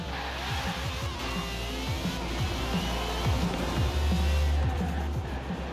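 In the Forza Horizon 4 racing game, cars roar past the finish line: several engines rise and fall in pitch as they sweep by, layered over a constant, loud engine drone.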